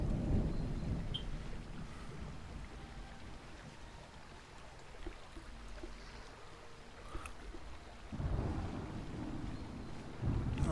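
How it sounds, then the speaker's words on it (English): An approaching thunderstorm in the survival game Smalland rumbles low and steady with rain and gusting wind, swelling louder near the end, and no one speaks over it. "Oh, we have another storm coming."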